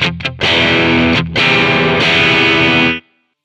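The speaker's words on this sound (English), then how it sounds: "I think anybody could agree that that's a distorted sound." Loud, heavily distorted electric guitar chords through Amplitube amp simulation ring out, with a few short choppy stabs before sustained gritty notes that cut off abruptly.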